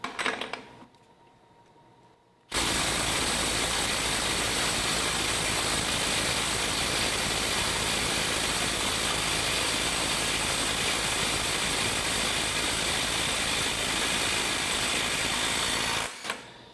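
A DeWalt 12V impact wrench hammers steadily and loudly at 450 foot-pounds, trying to break a fastener free. It runs nonstop for roughly fourteen seconds after a short quiet start, then cuts off abruptly.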